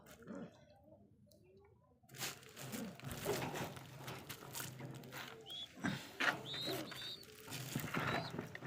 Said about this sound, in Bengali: খুব চমৎকার এক জোড়া কবুতর রেসার।